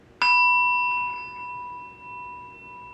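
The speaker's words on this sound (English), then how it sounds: "let's go ahead and sound the bell" A single bell is struck once, a clear bright ring that hangs in the air and slowly fades in a quiet room.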